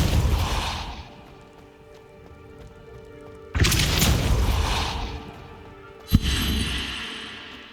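A Depulso spell cast in Hogwarts Legacy bursts out as loud whooshing blasts with booming thuds, two sharp impacts several seconds apart, each fading into a rumbling tail over quieter ambient hum.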